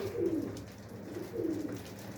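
White pigeons coo at close range, two soft low rolling calls about a second apart over a faint background hum.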